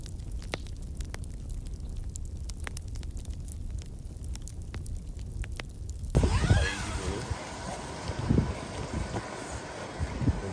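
Blustery wind buffets the microphone, low and rumbling at first, then swelling into louder, rougher gusts with whooshing noise, while bikepacking across Sardinia.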